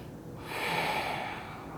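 Slow, deep breathing through the nose while holding a crossed lunge with arms overhead in a gentle yoga flow, one long steady breath heard up close with no talking.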